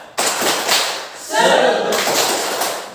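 Standing teachers in a school session perform a rhythmic spirit clap, a tepuk semangat, with sharp patterned claps and group chanting voices over them, fairly loud and close.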